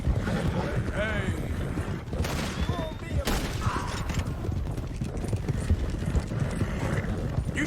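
Horse hooves clip-clop steadily on a road in the Red Dead Redemption 2 video game, a continuous loud rhythm of several horses moving at pace, with game sounds around it.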